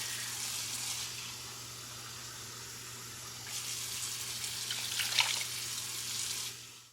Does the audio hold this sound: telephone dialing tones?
no